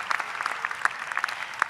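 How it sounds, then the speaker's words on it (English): Scattered applause from the audience at a commencement ceremony, a thin, patchy patter of separate claps rather than a full ovation, brief and moderately loud. "Can we give them a round of applause?"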